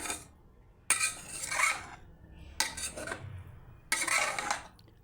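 Chicken biryani gets mixed in its pot after resting on dum, with three separate bursts of a metal spoon scraping and clinking against the pot, separated by quiet pauses.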